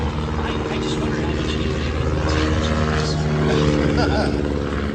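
Red Bull Air Force airplane performing aerobatics at the Miramar airshow, a steady loud engine drone that stays constant and fills the scene, with a faint tonal hum throughout.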